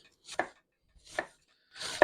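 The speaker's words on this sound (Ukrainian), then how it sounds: "наріжемо цибулю та почнемо її осмажувати" A knife chops through onion on a board in three separate strokes, close and crisp, with short silences between cuts.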